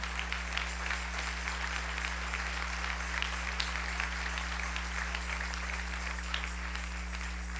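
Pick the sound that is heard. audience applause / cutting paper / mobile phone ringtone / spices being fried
audience applause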